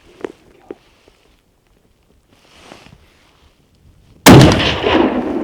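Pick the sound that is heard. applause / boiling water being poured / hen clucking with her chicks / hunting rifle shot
hunting rifle shot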